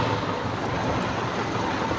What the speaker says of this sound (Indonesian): Sekarang kita coba nyalakan dulu untuk mesinnya, kita dengerin suara dari mulai langsam sampai RPM tinggi.